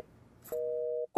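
A mobile phone call tone plays while a call is placed from someone's phone: one steady, sustained beep of about half a second after a short click, followed by the start of a voice.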